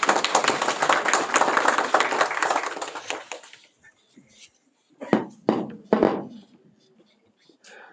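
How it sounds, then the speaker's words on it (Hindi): An audience at the inauguration of NIELIT Leh and Kargil claps to welcome a speaker, a dense burst of applause that fades after a few seconds, followed by a few soft taps and handling sounds. "जोरदार तालियों के साथ इनका स्वागत करेंगे"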